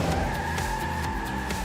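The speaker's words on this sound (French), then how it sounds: "je vais devoir faire une petite marche arrière" A cartoon Hot Wheels car reverses with a steady, loud tire skid that squeals continuously throughout, engine noise underneath and no voices.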